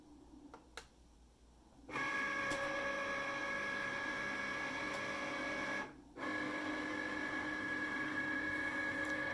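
A Cricut cutting machine loads its mat and starts scanning, giving a steady mechanical whir with tonal motor hum that starts about two seconds in, breaks off briefly, then resumes. Fairly quiet and close, with no talking.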